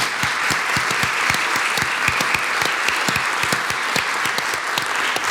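An audience at an author interview event applauds steadily, dense sustained clapping from many hands throughout.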